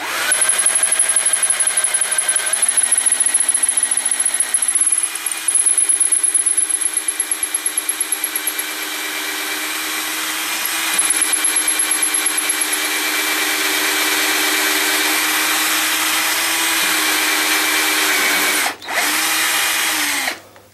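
A power drill whines steadily as it bores, its pitch shifting slightly a few times, with one brief pause near the end before it resumes.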